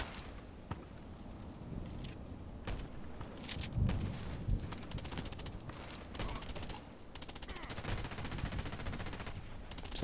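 Gunfire in a shooter video game on the Old Sawmill map, with bursts of rapid automatic shots and scattered single cracks over a busy background, moderately loud throughout ten seconds.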